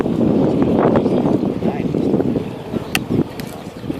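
Apache AH-64D attack helicopter at the ILA 2016 flying display, twin engines of over 2,300 shaft horsepower each, giving a steady broadband rumble and wind-like roar that holds throughout under a commentator's voice.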